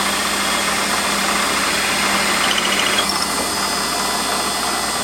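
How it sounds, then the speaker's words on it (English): A Warco lathe drilling a workpiece with a 7mm drill, a steady whirring motor hum with a faint high cutting whine and slight change partway through. "and I'll drill this out with a 7mm drill."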